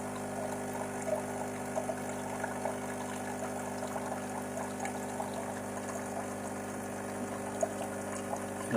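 A DeLonghi Dolce Gusto Jovia pod coffee machine runs its pump and pours water into a glass, a steady low hum under a soft, continuous trickle, close and fairly quiet, with no talking.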